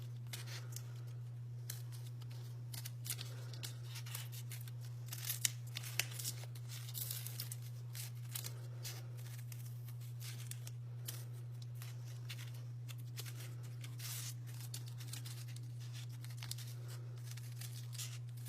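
Scissors snip through folded paper to cut a snowflake, making quiet, irregular clusters of cuts and rustles over a constant low hum, with no one speaking.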